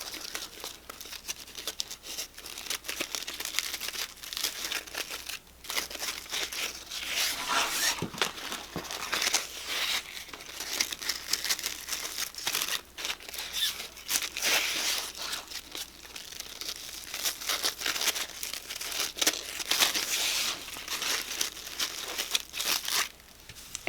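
Satin ribbon rustles and crinkles steadily as it is gathered into small loops for a bow on a heavy frost wreath, a soft close crumpling texture continuing throughout with no talk.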